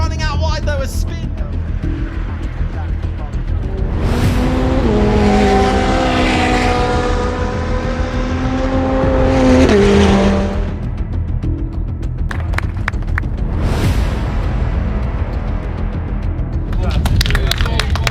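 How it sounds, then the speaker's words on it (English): A 488 Challenge Evo race car engine roars past loudly, rising and fading, with a second pass and commentary speech running throughout. "Car is actually called a 488 Challenge Evo."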